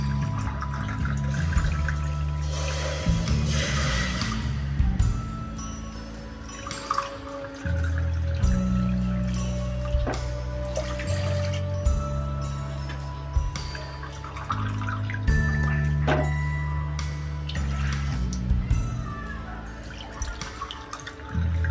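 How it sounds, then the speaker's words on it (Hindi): Water, four cups for rasgulla sugar syrup, pours and splashes into a container in several bursts, a close, rushing flow with short breaks between pours. "तो अब मैं यहाँ 4 कप पानी ले लूँगी।"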